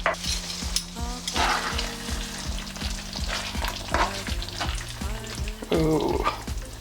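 Butter chicken sauce with homemade cashew butter cooking in palm oil in a pan, a steady close sizzle with stirring scrapes and a few utensil clinks against the pot.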